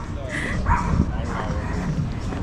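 A dog gives short yips and barks while a child plays with it, the sounds near and mixed in with ongoing talk.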